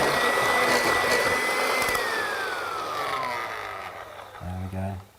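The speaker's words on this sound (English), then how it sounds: "we're using a 1950s Kenwood at the moment" A 1950s Kenwood stand mixer runs with a loud, rushing motor drone and a high whine that winds down as it is switched off. A voice speaks briefly just after.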